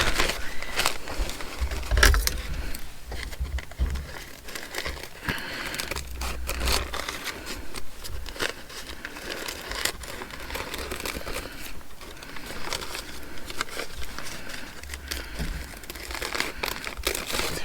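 Paper being folded and handled for a junk journal, with steady crinkling and crumpling rustles running throughout, close and fairly loud, with scraping touches between folds.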